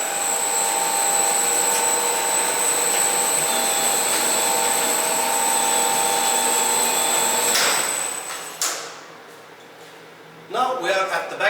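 A Komman Altay Roller 2700 automatic carpet washing machine runs with a loud, steady whirring drone and tonal hum for about eight seconds, then winds down, followed by someone talking nearby.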